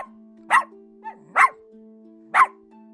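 A small puppy barks three times in short, evenly spaced yaps close by, with a soft whimper between the first two, over a steady low hum.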